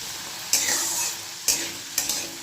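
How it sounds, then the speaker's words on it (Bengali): Potatoes frying in a pan, a close bright sizzle that flares in three or four bursts as the pieces are stirred, with no talking. "আলুটাকে আমি ভেজে নেব"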